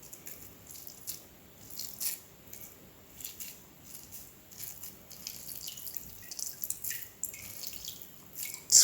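Hands squeeze water out of bread slices soaked in water, giving close, soft dripping and trickling with small wet squishes that go on steadily and grow busier toward the end.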